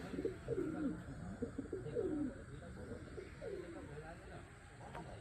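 Pigeons coo in repeated soft, throaty phrases from clay pot nests set on a village house roof in a Purulia tribal village, moderately near with faint background noise and no speech.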